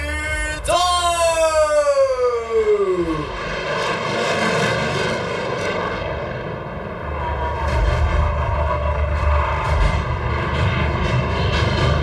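F-16 fighter jets roaring over Jakarta's National Monument at an Indonesian Air Force display, a loud pass whose pitch sweeps sharply downward as they fly by, followed by a sustained fading engine roar.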